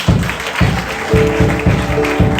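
A church congregation claps in praise of the Lord, loud rhythmic hand-clapping with a steady beat of regular strokes, close and energetic with crowd noise underneath.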